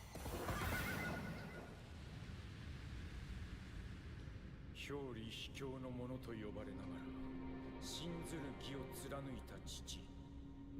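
A horse in the video game Nioh lets out a long wavering whinny, preceded by a rush of noise, and shorter snorting neighs follow, all mixed with game sound at fairly low volume.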